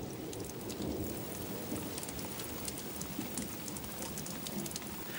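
Steady rain pours down through a thunderstorm, with low rumbles of thunder rolling underneath the dense, even hiss of water, all fairly loud and close with no voices.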